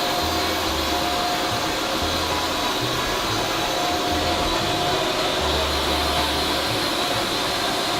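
A tequila bottle filling and capping machine runs on a distillery line, giving a loud, steady broadband mechanical whir with a low rumble pulsing underneath and no voices.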